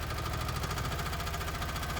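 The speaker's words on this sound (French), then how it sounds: "Je vais mettre un peu plus de moteur." A 1-tonne mini excavator's engine runs steady and loud, a dense continuous drone with a low throbbing pulse, revved slightly higher while digging through grass, with no voices over it.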